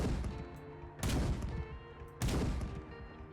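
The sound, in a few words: Gauss Sniper rifle firing in video game Fallout 4 (mod)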